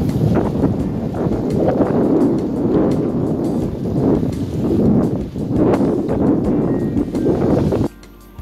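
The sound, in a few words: strong wind at a lake beach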